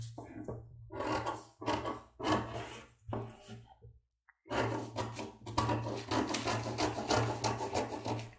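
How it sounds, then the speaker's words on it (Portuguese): Scissors cut through fabric pieces for a cropped top, making close, rhythmic rasping snips in bursts separated by short pauses, with no talking. "Vou recortar aqui, deixando um centímetro de margem para cada lado."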